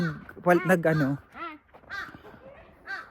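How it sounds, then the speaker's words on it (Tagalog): A crow caws several times outdoors on Jeju Island, its harsh calls rising over someone talking close by. "may uwak."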